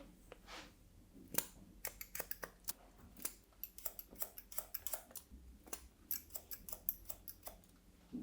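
Scissors making big chunky cuts through a man's thick, medium-length hair, a close series of crisp snips in an uneven rhythm with no talk.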